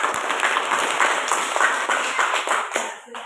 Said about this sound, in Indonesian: Kita berikan tepuk tangan untuk semua.